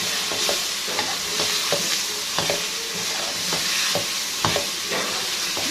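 White chickpeas with coriander are stirred in a pot, a spoon scraping and clacking at an irregular rhythm over a steady low sizzle, close and moderately loud with no talking.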